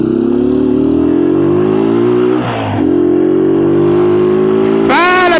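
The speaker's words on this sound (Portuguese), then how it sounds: "parece que tá mais barulhento hoje a moto que outro dia." Motorcycle and car traffic pulls away from a green light at rush hour in Bauru, Brazil: a loud, close engine drone holds steady, briefly dips, then another engine revs sharply at the end.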